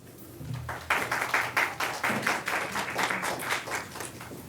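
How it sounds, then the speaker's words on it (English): An audience at a corporate mergers and acquisitions event bursts into steady applause, many hands clapping in a dense, even patter that holds at a moderate level for several seconds. "give all of them another round of applause"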